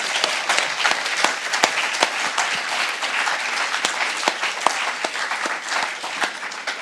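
Conference audience applauding a panel at a legal services event, steady dense clapping from a crowd filling the room throughout.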